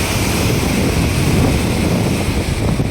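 Strong wind blows at the waterside of a temple, a loud, constant rush buffeting the microphone, with a wave-like roar beneath and no voices.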